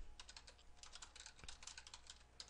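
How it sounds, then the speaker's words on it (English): Fingers type rapidly on a computer keyboard, a quiet close stream of light clicking keystrokes with no voices. "I just keep on typing."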